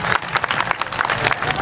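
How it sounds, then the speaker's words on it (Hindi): Audience clapping at a Hindi comedy poetry show as the host introduces the poets: loud, close, continuous applause from a crowd with some murmuring mixed in, dense and steady for the whole stretch. "तालियां कमजोर हैं आपकी, बजाते रहे।"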